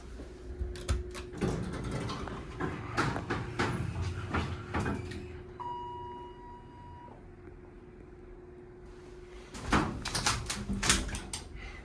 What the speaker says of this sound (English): Aggressive door slam.